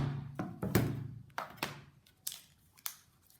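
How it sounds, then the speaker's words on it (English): A Big Shot die-cutting machine pressing cardstock through framelit dies between cutting pads gives a run of close, dull thunks and crunching clicks in an uneven rhythm. "And then I'll die cut these out."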